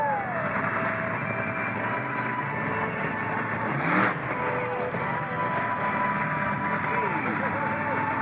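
The monster truck Swamp Thing launches its engine to crush cars at a car-crushing show, a loud rising roar with a surge midway, heard under announcer commentary and crowd noise.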